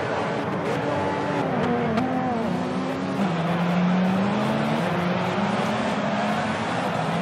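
The Merrick LMP prototype race car in Project Cars drives continuously, its engine note stepping up and down through gear changes over a loud, sustained roar, with hints of tire noise.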